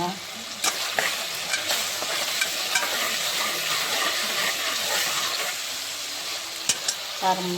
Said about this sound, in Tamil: இப்போ எண்ணெயில் நல்லா ஃப்ரை ஆகட்டும்